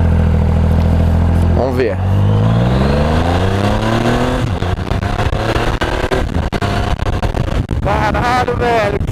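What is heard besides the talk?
Triumph Rocket 3 motorcycle engine accelerating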